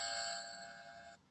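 A small bright bell on a toy doll's house chimes once, sustaining a clear metallic tone for about a second before cutting off quietly.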